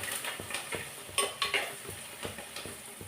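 Onions and green chillies with a little salt sauté in a pan, a soft steady sizzle broken by a ladle stirring and scraping against the metal in uneven knocks, close by with no voices.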